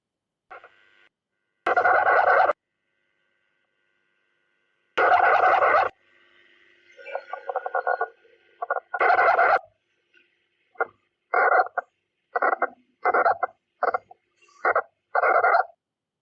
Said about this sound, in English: Let's hear how ants stridulate.